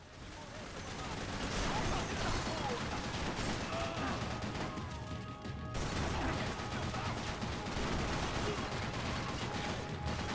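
Gunfire in the bank robbery level of the video game Max Payne 3, with dense, continuous bursts of shots and mechanical clatter running throughout, loud and steady.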